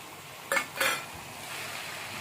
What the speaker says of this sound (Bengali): একটু নেড়ে নেবো এর সাথে।